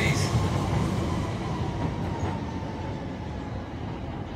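A twelve-car Greater Anglia Class 360 electric train runs empty through platform 5 at Stratford, a continuous rolling rumble with wheel noise that eases off slightly, while faint station announcements sound in the background.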